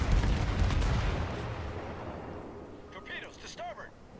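Naval gunfire in the World of Warships video game: a heavy, booming salvo rumbles and slowly fades, followed by fainter tonal effects and chirps.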